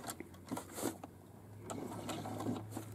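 A sewing machine stitches a pocket onto a fabric bag in short quiet bursts of rapid mechanical chattering, a couple of brief runs separated by pauses, close by with no talk.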